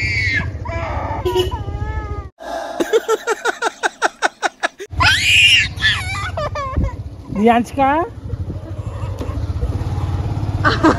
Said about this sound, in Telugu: అరుస్తుంది.